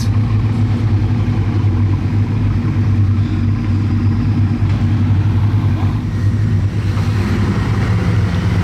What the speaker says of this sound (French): la Véron là qui vient de démarrer. Que des cold start.